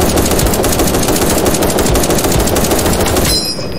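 Rapid automatic gunfire from the browser shooter game Krunker.io, a dense continuous burst of loud shots lasting several seconds before cutting off abruptly, with no talking.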